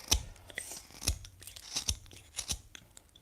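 A knife carving a walnut wood spoon, heard as a string of close, crisp scraping cuts and short shaving strokes at an unhurried, uneven pace, with no speech.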